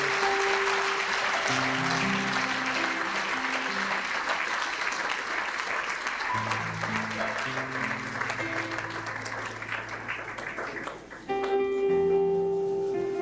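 Church congregation on its feet applauding and cheering in praise, sustained loud clapping with crowd voices and sung or held tones underneath, dropping briefly before resuming near the end.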